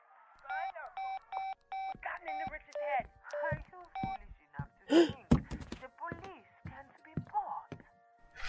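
Telephone keypad dialing: a quick run of seven electronic DTMF tone beeps in a steady rhythm, clear and close, followed by knocks, thuds and other effects as the scene continues.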